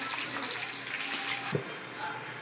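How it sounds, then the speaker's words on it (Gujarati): Oil sizzles and crackles steadily as leaves fry in a pan, a continuous hiss close up with a faint voice in the background. "એ બી પાન એકદમ કડક થાય ત્યાં લગી તળવાના"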